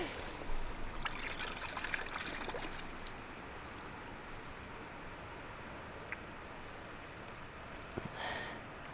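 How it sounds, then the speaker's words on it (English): Mudlarking find being washed in river water after a flood, with a soft continuous trickle and sloshing of water, a few faint knocks and splashes, no talk. "I'm going to give it a wash in the water and see"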